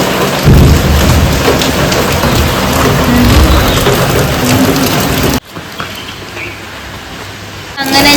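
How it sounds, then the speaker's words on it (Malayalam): Heavy rain pours steadily and loudly outdoors, a dense continuous wash that drops off sharply partway through before resuming more faintly with a brief return near the end. "നല്ല മഴ പെയ്യുന്നുണ്ട്"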